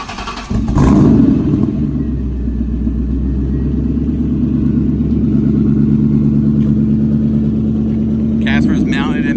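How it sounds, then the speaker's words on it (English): A 17-year-old Ford Mustang engine cold-starts with a brief cranking burst, then settles into a loud, steady, low rumbling idle close by, with a short clatter near the end. "let's get a cold start on this"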